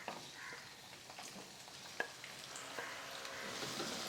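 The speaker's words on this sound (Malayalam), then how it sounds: "നല്ലോണം ഇളക്കി കൊടുത്ത് മൂപ്പിച്ചെടുക്കണം" Chopped ginger frying in oil for Kerala-style inji curry, an Onam sadhya dish, giving a steady low sizzle with faint scraping as it is stirred, plus one brief sharp clink near the middle.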